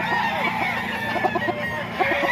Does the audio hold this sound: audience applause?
no